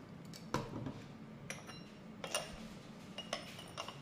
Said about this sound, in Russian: Разливаю чай